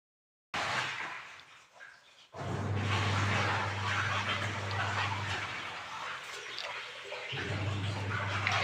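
Water poured and splashed while clothes are washed at a village home, a steady rushing flow with a low hum underneath, briefly stopping and then resuming, at moderate volume.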